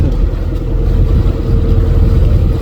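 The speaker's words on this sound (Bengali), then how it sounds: "মানে এটা হচ্ছে বন বিভাগের টহল বোট এটা দিয়ে হচ্ছে বন বিভাগ টহল দেয়" A forest department patrol boat's engine runs steadily at close range near Dublar Char in the Sundarbans, a continuous low drone mixed with rushing wind and water, with no voices heard.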